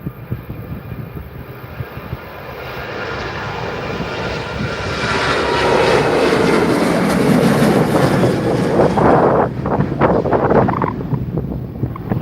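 A Ryanair airliner departs runway 23L at Manchester Airport, its jet engines swelling from a distant rumble to a loud roar that peaks and rolls past before easing slightly.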